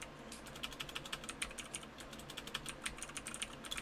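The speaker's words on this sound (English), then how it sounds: "Furious typing." Fast, furious typing on a computer keyboard, a dense run of sharp, close key clicks at an uneven rapid rhythm, heard alone without talking.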